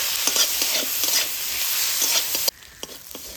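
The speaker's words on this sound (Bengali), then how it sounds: "মশলাগুলো খুব ভালোভাবে ভেজে নেব।" Ginger, garlic, chopped tomato and green chilli fry and sizzle in a pan in a village kitchen, a loud continuous hiss with scraping stirs, cutting off abruptly to a quieter background near the end.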